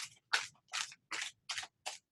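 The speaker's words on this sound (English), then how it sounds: "I don't particularly like to shuffle on camera" A deck of playing cards is shuffled in six quick, evenly spaced riffling bursts, close and crisp, with brief pauses between each pass and no talking.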